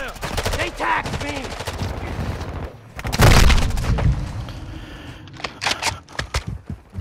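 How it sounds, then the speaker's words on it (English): Gunfire crackles from a Modern Warfare II online Hardpoint match, with bursts of automatic fire and a heavy close shot mid-clip, followed by scattered sharper pops against a busy game background. "I'm taking enemy fire!"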